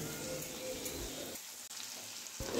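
Spice paste sizzles in hot oil for a raikhor fish curry, a loud crackling hiss that drops away briefly mid-clip and then surges back, heard close with no talk.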